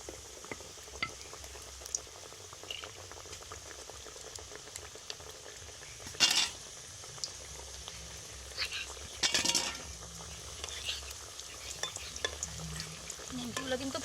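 Nimki pastries fry submerged in hot oil in a wok, a continuous bubbling sizzle with two louder utensil scrapes partway through.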